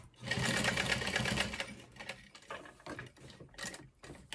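A sewing machine stitches through vinyl for a crossbody bag, a fast close mechanical whir in a burst lasting over a second, then short intermittent runs of stitching.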